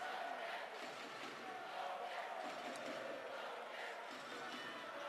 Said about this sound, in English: Norwegian fans cheering their team on.